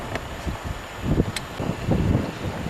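Wind gusts across the harbor on Orcas Island in the San Juan Islands, Washington, giving irregular low buffeting rumbles close to the microphone.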